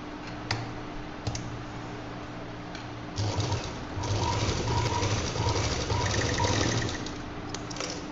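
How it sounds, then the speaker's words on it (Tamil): A sewing machine stitches lining cloth for a shoulder bag, running close by in intermittent bursts and a longer steady run, with a few sharp clicks. "அந்த லைனிங் கிளாத் எடுத்துக்கலாம். எடுத்துட்டு அதோட ரைட் சைடு வச்சுக்கலாம். வச்சு இங்கேருந்து இங்கே வரைக்கும் ஒரு தையல் போட்டு"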